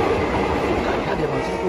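A train runs along the rails in Ghana with a steady, loud rolling roar and faint clickety-clack, heard from onboard with murmuring voices underneath.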